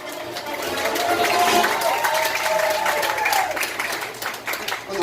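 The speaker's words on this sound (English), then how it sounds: "Huge round of applause." An audience at a hypnosis show claps and cheers loudly for several seconds, a dense sustained applause that swells and then eases, with a few voices calling out inside it.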